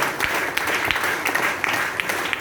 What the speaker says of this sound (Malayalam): നല്ലൊരു കയ്യടി നമ്മുടെ നന്ദിയായിട്ട് അറിയിക്കാം